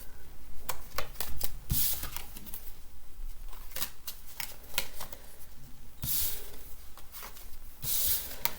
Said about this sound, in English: And I'm just going to put these cards back.